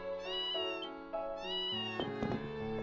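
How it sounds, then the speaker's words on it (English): A cat meows several times in the video game Ys Seven, clear tonal cries with short pauses between them, backed by soft game music. "It's very important that I have the cat meow."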